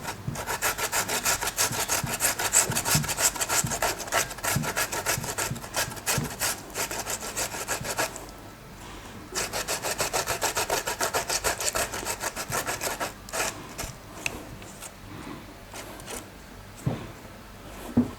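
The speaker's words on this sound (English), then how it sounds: "You can see that I'm using the smaller part of my grater here because I want it to look like blended tomato." A tomato rubs back and forth across the small holes of a metal grater, giving a steady, close, raspy scraping that runs continuously, thins out midway and then resumes more sparsely.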